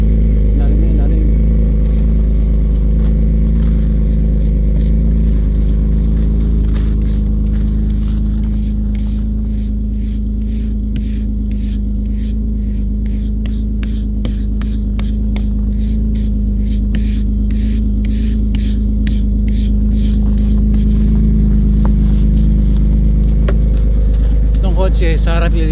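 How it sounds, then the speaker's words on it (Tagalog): A car engine idles and runs steadily as the vehicle is moved through snow in Canada, a constant close low hum with a rapid rattling texture building in the middle, while someone speaks over it. "Kotse sa harap ililipat ko"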